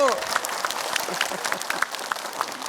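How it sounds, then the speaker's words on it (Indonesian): An audience claps during a religious talk session, scattered and fairly light claps running under a speaking voice throughout. "Tepuk tangan dulu deh Ibu."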